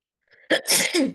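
A single close, loud sneeze with a short indrawn breath before it, sharp and explosive, then tailing off.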